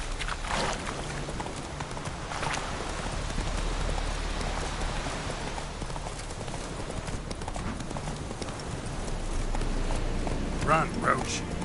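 Roach the horse gallops in The Witcher 3 near Kaer Morhen, with steady, close clip-clop hoofbeats running throughout and a voice calling out over them.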